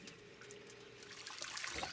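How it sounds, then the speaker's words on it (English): Water runs from a tap into a bucket in the video game Project Zomboid, a faint steady splashing trickle that swells slightly toward the end. "I'm going to fill this whole bucket full of fresh water."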